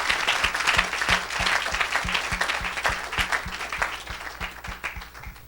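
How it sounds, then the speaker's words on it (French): A church congregation claps and applauds together, a dense, steady wash of many hands at moderate loudness lasting throughout, with a faint rhythmic low thump running beneath it. "Somebody clap for the Lord."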